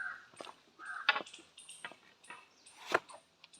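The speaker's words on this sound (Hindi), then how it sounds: "पंछियों की आवाज़" Birds calling around a mountain temple at Girnar in Gujarat, with a few short chirps and harsher caws scattered across the clip, moderately distant and fairly faint over quiet outdoor background.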